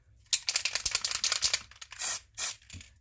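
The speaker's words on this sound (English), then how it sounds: "it's basically like silly string in a spray can" Black silly-string-type spray foam from an aerosol can, used for a Halloween pumpkin craft. A close rattly hiss comes in quick bursts, then two longer steady sprays and a short final puff.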